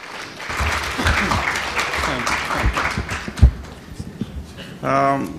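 Audience applause at a forum of Romanians from around the world, a sustained patter of clapping hands with speech running over it and a short burst of tonal sound at the end.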